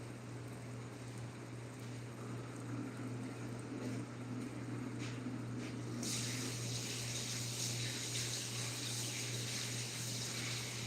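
Tap water runs steadily over lentils being rinsed, a continuous hiss that grows brighter and louder partway through, with no talking.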